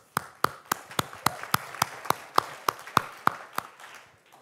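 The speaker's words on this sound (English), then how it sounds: "I'd like just for everyone to join me in a large round of applause for all the people working their butts off to build the hardware" An audience applauds the people who build hardware, with sparse, distinct claps in an uneven rhythm that stay steady for several seconds and then taper off.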